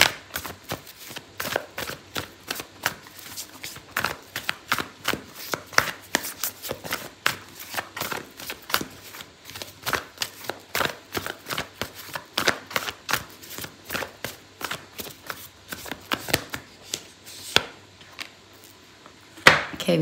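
Oracle cards being shuffled for a tarot reading, a long series of sharp riffling and slapping card sounds in irregular bursts, close and clear with no talk.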